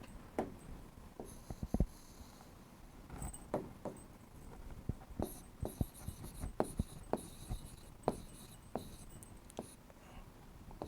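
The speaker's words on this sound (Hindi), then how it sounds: "यहाँ पे लिख भी देता हूँ मैं।" A marker writes on a board during a chemistry lesson, producing a run of short squeaks and taps at an irregular pace, fairly close and moderately loud, with no talking.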